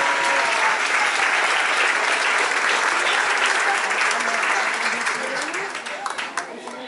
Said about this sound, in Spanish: Démosle palmas al Señor por eso